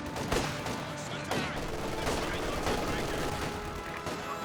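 MG42 machine gun bursts in Company of Heroes 2, rapid gunfire mixed with other scattered shots across a busy battlefield, a commentator talking over much of it.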